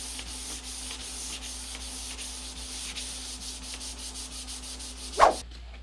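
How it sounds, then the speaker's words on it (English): Sandpaper rubs back and forth across a car body panel in an even, rhythmic scratching with a steady hum underneath, ending in one short louder scrape before it stops. "sanding the rest of this panel with 800 grit"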